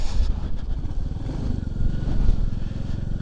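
A Royal Enfield Classic 350 motorcycle engine thumps steadily at close range, a low, continuous pulsing rumble with slight rises in revs, heard on a ride up Dundee Law.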